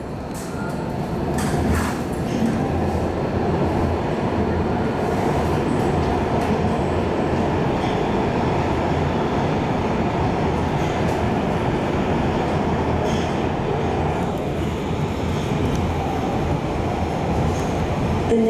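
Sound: MARTA Red Line subway train riding, heard on board

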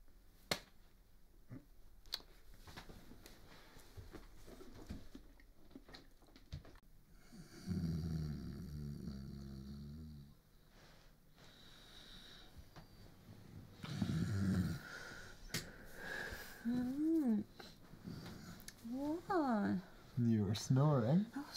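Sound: person snoring in bed

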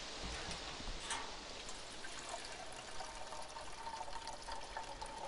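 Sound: pouring fuel from a jerrycan into a vehicle in the video game DayZ

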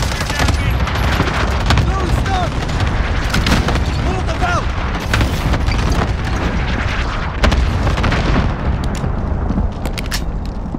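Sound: airstrike explosions in the video game Call of Duty Warzone

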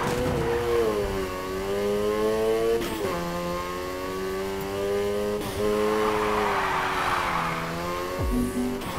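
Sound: car drifting in video game Need For Speed Heat

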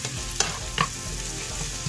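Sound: onions sautéing in a pan

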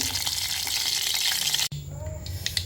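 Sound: mustard seeds sizzling in hot oil

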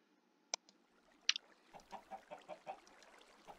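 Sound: chickens clucking in Minecraft video game

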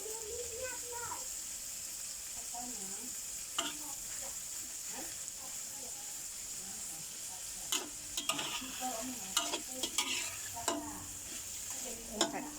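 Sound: stir-frying shrimp with stink beans

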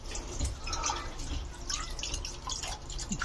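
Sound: solar garden fountain splashing water

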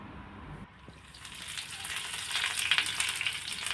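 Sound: frying dried chillies, garlic, onion and curry leaves

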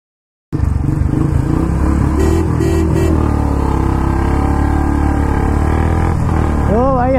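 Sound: Royal Enfield Hunter 350 and Classic 350 motorcycles drag racing

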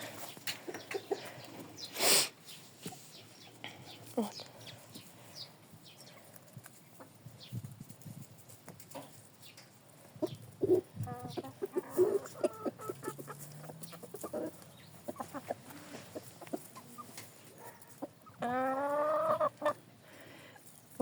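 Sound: Easter chickens clucking as they are let outside

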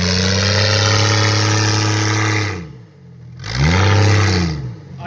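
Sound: lifted Jeep engine revving during a burnout

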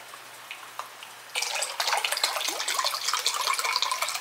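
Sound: chicken broth being poured out

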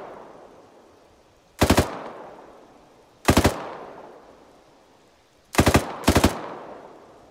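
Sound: gunfire in the Arma 3 video game

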